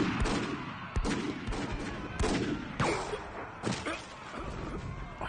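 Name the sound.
gunfire in a samurai zombie movie battle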